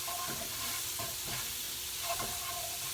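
Onions frying in butter in a pan give a steady broadband sizzle with a few soft scraping stirs, close and continuous, with no voices.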